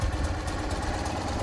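A 1963 BMW R50S motorcycle engine, fitted with new cables, runs steadily at a smooth mid-pitched idle with a faint mechanical clatter, close and continuous.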